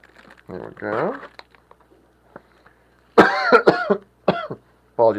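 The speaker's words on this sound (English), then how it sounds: "Apologies for the cough there, guys." A man coughs in a room, a couple of sharp, close coughs separated by quiet pauses.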